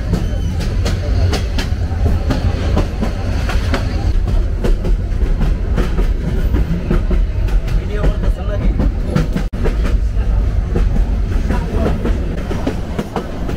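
Kishoreganj Express train running on rails, a loud steady rumble with a rhythmic clickety-clack of wheels over joints throughout, heard from on board with faint voices mixed in.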